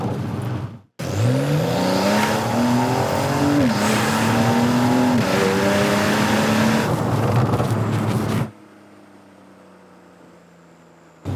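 A 2020 Porsche Carrera S sports car accelerating hard, its engine note climbing through several gear changes, loud and close, then cutting to a quieter low hum near the end.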